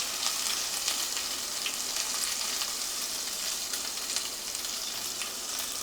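Onion, cashew and green chilli paste frying in a pan for paneer korma, giving a steady, close, fairly loud sizzle that holds evenly throughout with no talking.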